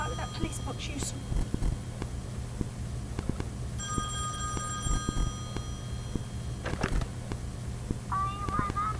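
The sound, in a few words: telephone ringing in a Doctor Who scene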